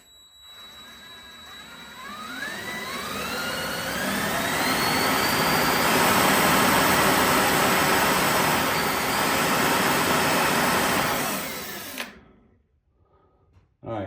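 Electric ducted-fan turbine with a Nylon 6 planetary gear spinning up, a loud rising whine climbing steadily in pitch over several seconds, holding at a high roar, then cutting off abruptly into near silence.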